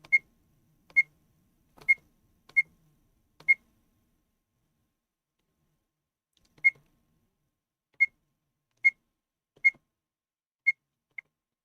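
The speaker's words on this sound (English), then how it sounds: "Yeah, the beep is a little much." Sharp, high electronic beeps from a Maxmango V08 Pro camera, about a dozen short chirps in irregular bursts, clear and close with a pause midway.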